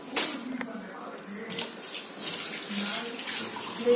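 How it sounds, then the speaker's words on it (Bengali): Running tap water pours steadily over fish being washed under a faucet, a continuous splashing rush at close range with brief faint voices in the background. "আগে মাছটা ধুয়ে নি"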